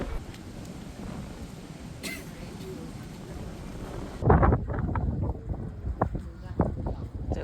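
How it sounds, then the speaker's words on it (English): Wind buffets the microphone in gusty bursts at the Victoria Peak viewing platform in Hong Kong at twilight, soft and steady at first, then sharper, louder thumps in the second half. "It's a little windy."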